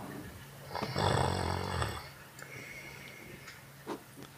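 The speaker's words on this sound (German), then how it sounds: "Das schönste Schnarchen im Podcastland." A single loud, rasping snore lasts just over a second near the start, recorded close on a podcast microphone at night. A quieter stretch of faint rustles and a soft click follows.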